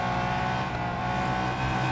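Race car engine in Real Racing 3 on a circuit, a loud, sustained droning whine with steady revs holding for the whole stretch, close and unbroken, with no talk over it.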